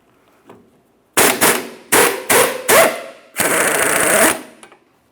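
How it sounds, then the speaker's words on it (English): A bolt is hammered out of the front lower control arm of a 2003-2007 Honda Accord, with five sharp, loud metallic impacts followed by a longer burst of rapid hammering, close up and with no speech. "Now we'll remove the bolt by driving it out from the rear towards the front."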